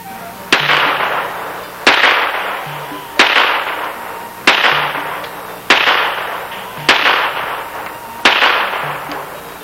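Seven sharp gunshots from a .22 pistol ring out at even intervals of about 1.3 seconds, each a loud crack with a short decaying tail, with no talking.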